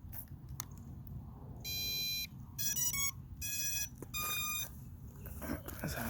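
A Holy Stone HS700D FPV drone controller powers on with a series of bright electronic beeps, four or five short tones in quick succession over a steady background hiss, with no talking.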